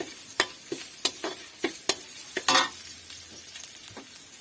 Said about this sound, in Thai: ไปผัดกระเทียมก่อนนะให้มันเหลืองนะ